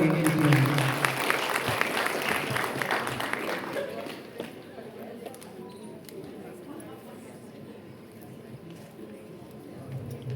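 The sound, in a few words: audience applause welcoming singers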